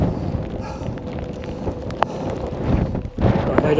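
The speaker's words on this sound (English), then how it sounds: "It's way too windy." Strong wind gusts across a mountain trail, buffeting the microphone with a steady broadband roar that swells and surges, heaviest toward the end.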